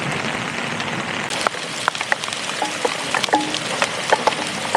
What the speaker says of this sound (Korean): 우박이 내리고 있고